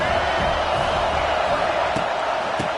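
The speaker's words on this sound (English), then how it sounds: "This crowd bringing the energy and noise early" Stadium crowd at a football game early in the contest, a dense continuous roar of many voices at steady loudness, with a couple of brief sharper bursts near the end.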